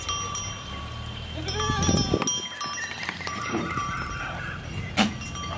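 Rajasthani pregnant goats bleat nearby against a noisy outdoor background, with a bell clinking and a voice speaking now and then.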